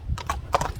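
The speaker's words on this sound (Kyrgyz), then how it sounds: "Аттар жылоо болбосундан карап турам." Hooves of a bay horse clip-clop at an amble, a few close, crisp beats in quick succession.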